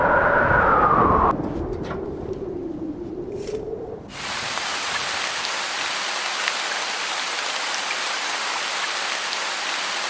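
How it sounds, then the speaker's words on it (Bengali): Steady rain pours down after a brief stretch of other sounds at the start, a dense, even hiss of falling drops that continues to the end. "বৃষ্টি নেমে গেল"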